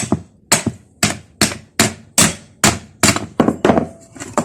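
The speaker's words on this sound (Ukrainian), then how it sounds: "Потім, як завжди, беремо молоток" A hammer strikes a washing machine motor about ten times in a steady rhythm, each tap sharp and close with a brief ringing decay.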